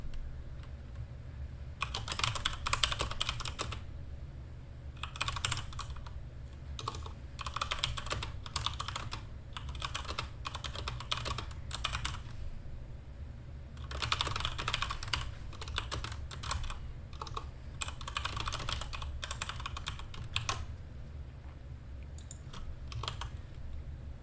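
Close-up computer keyboard typing comes in bursts of rapid key clicks separated by short quiet pauses, with a low steady hum underneath.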